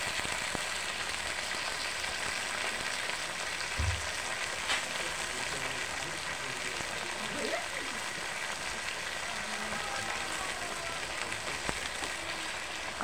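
Alugbati greens frying in a pan with added water, giving a steady, even sizzle and hiss throughout, with a faint clink of cookware now and then and no talking.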